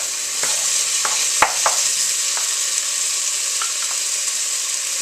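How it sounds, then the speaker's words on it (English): A spoon stirs tomato into a cooking pot over a steady, bright sizzle, with a handful of sharp scrapes and clinks against the pot spread unevenly through the clip, close and alone. "I'm going to stir that in there"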